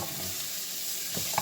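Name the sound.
garlic sizzling in a frying pan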